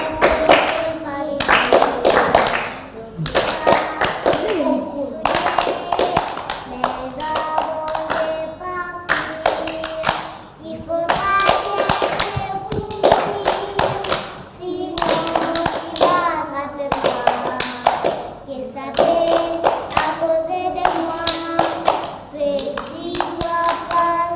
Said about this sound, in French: Tape dans les mains.